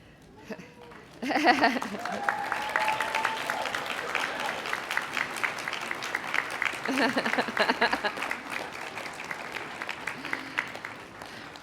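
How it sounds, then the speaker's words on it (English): A graduation audience breaks into applause and cheering, starting abruptly and sustained as a dense wash of clapping with voices and whoops mixed in, gradually easing toward the end. "give them a rousing cheer or round of applause in appreciation"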